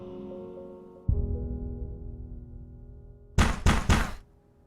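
Three loud, rapid knocks on a door ring out close by after a low thump and steady room hum, each blow sharp and evenly spaced in a short burst.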